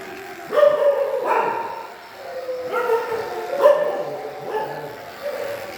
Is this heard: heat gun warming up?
no